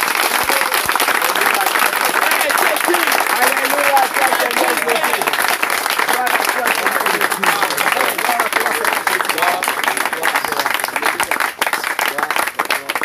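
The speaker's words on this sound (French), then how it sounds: "Des acclamations pour notre roi des rois." A church congregation cheers and applauds during a worship service, a long, loud, dense roar of clapping with crowd voices and shouts woven through it, steady and unbroken throughout.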